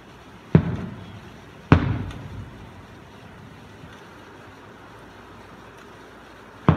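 A distant fireworks show booms through a hazy night with lightning nearby: two sharp thuds early on with rumbling tails, then quiet, and another burst right at the end.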